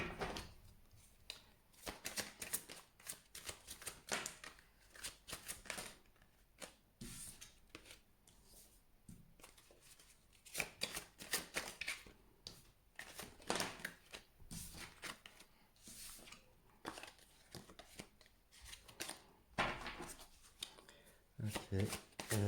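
Tarot cards shuffled and drawn by hand, with soft repeated riffling, slapping and sliding card sounds close up, mixed with quiet French speech.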